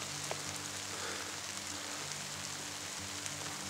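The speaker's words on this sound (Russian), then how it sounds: "Светит солнце и падает дождь." Steady patter of rain falling on forest foliage and surfaces, a continuous soft hiss with occasional louder drips, no voices.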